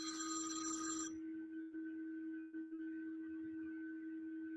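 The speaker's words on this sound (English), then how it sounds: "typical my phone rings." A mobile phone rings during a talk at a social gathering, one short ring burst that stops after about a second, leaving a quiet steady tone in the room.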